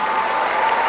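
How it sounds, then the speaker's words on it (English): Audience at a 2018 general session breaks into a steady, dense round of applause, a close, continuous wash of clapping with crowd noise throughout. "How about a nice round of applause?"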